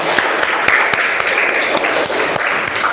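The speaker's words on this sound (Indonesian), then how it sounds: "Tepuk tangan untuk kelompok 2." Steady applause from a classroom audience for a student group that has just presented at an Islamic teacher-training session, dense clapping filling all three seconds at an even, close level.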